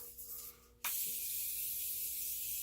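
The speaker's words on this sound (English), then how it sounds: "This is just my Morphe setting spray." Morphe makeup setting spray misted from a pump bottle, one long steady hiss that starts abruptly and runs to the end, close and bright, with no talking.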